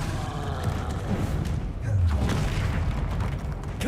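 A Confringo blasting spell explodes in the Hogwarts Legacy video game, giving a low rumbling boom amid steady background combat noise, with a deep swell about halfway through.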